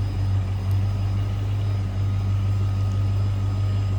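A 1992 Ford Mustang GT convertible's 5-liter V8 idles with a steady, deep, low rumble, close and even throughout, with no voices over it.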